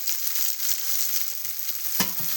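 Curry leaves and crushed shallots with garlic and a little salt fry in hot oil for a cowpea curry, giving a steady, close crackling sizzle with one sharper pop near the end.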